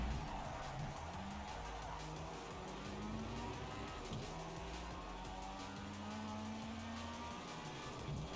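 A car drifts in Project Cars 3, its engine note wavering and sliding steadily while tyres scrub underneath, fairly quiet and continuous behind music, with no talking.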